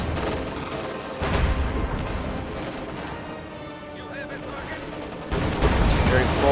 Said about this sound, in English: Nice shots by those field guns taking out the Panzer IVs